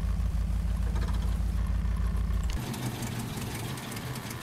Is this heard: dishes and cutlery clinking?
no